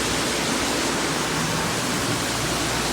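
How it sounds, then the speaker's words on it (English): Soybeans pour steadily into a grain bin during unloading, a dense continuous rushing hiss with no breaks, close and fairly loud, with no voices. "take a look inside the bin. We got the beans"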